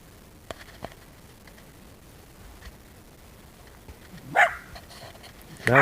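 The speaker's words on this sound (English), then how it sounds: "That one right there is the only one that still runs around and barks." A puppy in a pen gives a sudden sharp bark after a quiet stretch of faint rustling and taps, then starts another bark right at the end.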